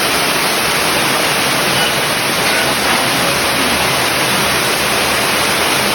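Heavy rain floodwater rushes through a tunnel as a loud, steady, broadband roar like a waterfall, filling the whole stretch without pause, no voices heard.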